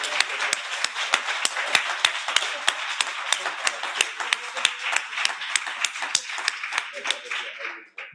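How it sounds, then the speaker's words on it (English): An audience at a creative writing teaching gathering claps in honour of the organising team: a steady, rhythmic run of crisp claps at a regular beat that carries on for several seconds and then fades out. "they deserve a big applause also"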